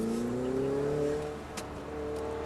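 A Ferrari 488 at full throttle on a racetrack, its engine note rising steadily as it accelerates, heard from inside the car, moderately loud, with a brief click partway through.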